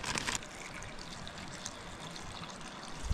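Water pours into a camping pot outdoors in freezing winter weather, a steady close trickle and splash of about one liter running throughout without speech.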